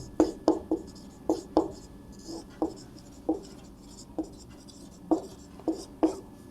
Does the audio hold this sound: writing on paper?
yes